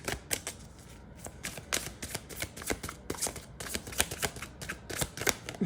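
Tarot cards are shuffled by hand, a quick irregular run of crisp riffling snaps and soft slaps, close and fairly quiet with no voices.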